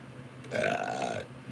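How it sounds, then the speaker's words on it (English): A single drawn-out burp, close and moderately loud, rising and fading over about a second in an otherwise quiet setting. "Ooh, that was a burp."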